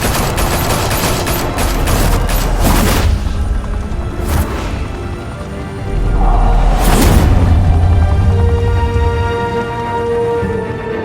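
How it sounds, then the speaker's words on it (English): Gunfire in the Batman Telltale Series, sharp volleys of shots in the opening seconds and again midway, over a loud, low rumbling background that continues after the shooting stops. "Open fire!"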